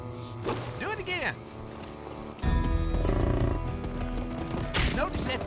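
Horse hooves pound rhythmically at a gallop in the video game GUN, with whinnies and a snort layered over game music and effects.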